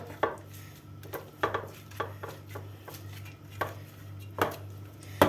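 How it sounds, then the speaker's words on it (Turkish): A fork mashing cheese in a bowl for rolled börek, a series of soft irregular taps and scrapes against the dish, close and fairly quiet over a low steady hum. "Çatal yardımıyla iyice ezelim arkadaşlar."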